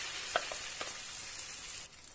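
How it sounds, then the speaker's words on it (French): A potato omelette frying in hot oil in a pan: a steady, fairly quiet crackling sizzle with a few small pops, running alone without any voice. "Je vais laisser l'huile bien chauffer avant de rajouter l'omelette à la pomme de terre."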